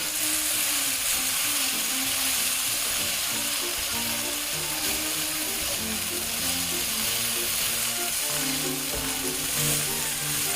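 Garlic, mushrooms and shallots sautéing in a pan, a loud continuous close sizzle with faint stirring scrapes throughout.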